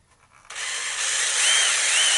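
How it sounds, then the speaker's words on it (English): A power drill spins up abruptly after a quiet moment and bores through a leather holster, a loud steady high-pitched whir that climbs slightly in pitch and continues to the end, without speech. "I'm just lining these holes up and then drilling through both of them"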